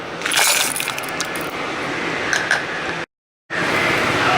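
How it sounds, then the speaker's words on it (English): A mixer grinder whirs loudly as it grinds roasted red chili, a dense rattling roar that cuts out abruptly, pauses in silence for a moment, then starts again. "Now I will put it in the mixer pot"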